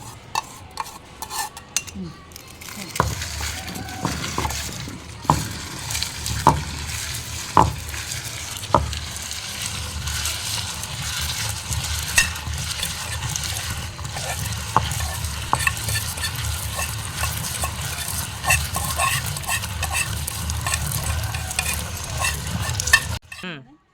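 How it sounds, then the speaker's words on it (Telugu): Tempering spices sizzle and crackle in hot oil for a coconut and moong dal chutney, with a spoon stirring and scraping the pan in repeated clinks over the steady fry. "పోపులన్నీ వేస్తున్నాను"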